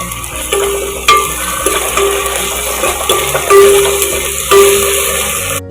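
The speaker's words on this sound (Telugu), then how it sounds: "ఇప్పుడు మనం ఒక స్పూన్ అల్లం వెల్లుల్లి పేస్ట్ వేసుకుందాం" Ginger garlic paste frying in a pan for mushroom methi rice, a loud sizzle broken by repeated metallic clinks and scrapes of a spoon stirring against the pan.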